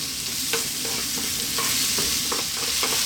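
Vegetables stirred and frying in a pan over medium heat for vegan spicy veggie pasta, a steady close sizzle with repeated scraping stir strokes throughout, no talking.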